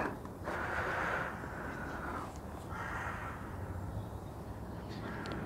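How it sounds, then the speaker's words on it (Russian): Crows caw in the morning outside a winter balcony, three or four drawn-out calls at moderate distance over a steady outdoor hiss, with no talk. "Вот целое утро каркают вороны."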